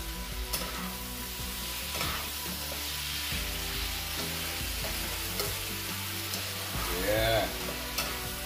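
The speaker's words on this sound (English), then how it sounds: "And I stir again." Chicken stir-fry with teriyaki sauce sizzling steadily in a hot pan while a utensil stirs and scrapes through it, a continuous close frying hiss with intermittent clinks and knocks.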